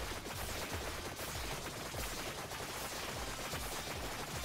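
Rapid gunfire from a fast-paced video game, dense overlapping shots and bursts that keep up steadily and loudly throughout with no pauses.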